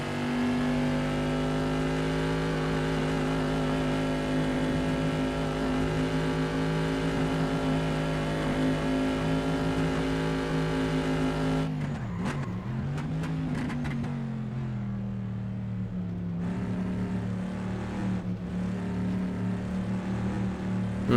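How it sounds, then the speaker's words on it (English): A sustained classic race car engine drone in the Assetto Corsa racing game holds steady, then dips and shifts pitch as it changes gear, continuing as a loud mechanical hum. "Sound of these cars is solid."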